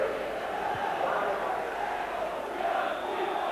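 A capacity football crowd of about 24,600 murmurs and roars steadily inside Love Street stadium, a dense continuous wash of distant voices with no distinct peaks.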